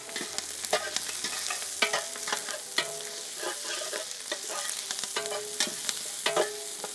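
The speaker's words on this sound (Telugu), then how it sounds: "అల్లం వెల్లుల్లి ముక్కలు యాడ్ చేద్దాం." Ginger, garlic and fennel frying in oil in a pan for a spicy chilli mutton korma, with steady sizzling and repeated scraping stirs in an uneven rhythm, close and moderately loud, with no talking.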